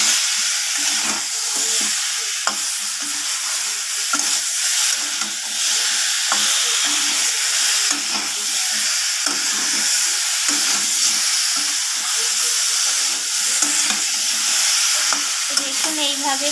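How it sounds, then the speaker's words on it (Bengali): Spices stirred together with vegetables, ginger and salt in a hot pan for a vegetarian jhol with urad dal bori and kulekhara greens, giving a steady close sizzle with spatula scraping throughout. "এইভাবে কষাতে হবে মশলাগুলোকে ভালোভাবে সবজির সাথে মিশিয়ে নিয়ে"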